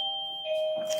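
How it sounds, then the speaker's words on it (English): A two-tone doorbell chimes once, close and clear, with a steady ringing tone that holds through the whole second in an otherwise quiet room. "I'm sorry about the doorbell."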